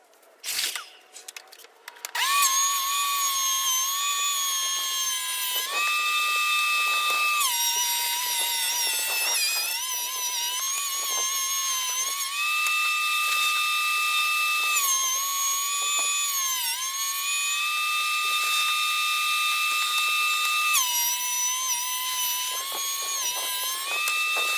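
A power planer runs across rough-cut sauna panel boards. A few brief knocks come first, then a loud, sustained high-pitched whine that holds close by and shifts pitch slightly as the cut changes, with no talking.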